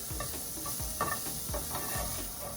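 Chopped cheese hot dog filling searing in a hot pan over medium-high heat, a soft steady sizzle broken by rhythmic scraping strokes of a utensil stirring it around, fairly quiet and with no speech.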